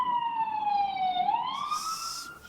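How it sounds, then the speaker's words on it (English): A single siren wail sweeps down and back up in one loud, clear cycle, with faint background noise around it. "Somebody call an ambulance, because I hear an ambulance."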